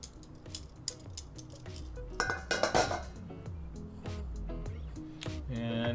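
A salad bowl and dishes are set down and moved while plating salmon salad, with clinks, knocks and scraping of crockery, busiest around the middle.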